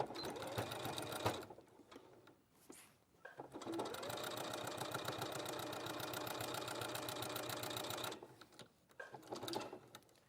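A Brother sewing machine stitches fabric in a steady, rapid mechanical whir that runs for several seconds, with brief pauses before and after the long run, close and fairly quiet.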